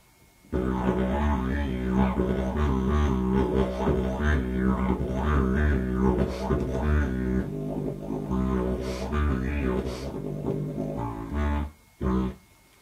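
Droning didgeridoo played acoustically, a deep buzzing continuous tone with rhythmic wobbling overtones and breathy pulses, close and moderately loud, with brief breaks near the end.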